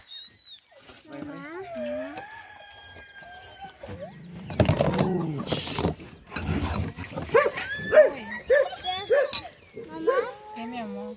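Several dogs bark and whine in bursts, some sharp repeated yelps near the end, with voices of people and children talking nearby.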